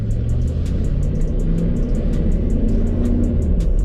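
A pickup truck fitted with a donor 4L60e transmission drives off, giving a continuous low engine rumble and road noise at moderate level, with faint periodic ticking above it and no voices.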